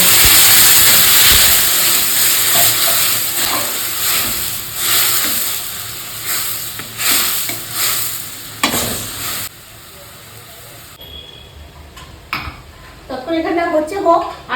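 Spices sizzle loudly in a pan as water goes in, making a dense hissing, bubbling roar with stirring clatter that fades into quieter kitchen clinks, and a voice speaks near the end.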